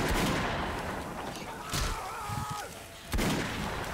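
Gunshots in Left 4 Dead 2 during a zombie fight, a few sharp bangs standing out over a busy, rumbling background of game noise at moderate level.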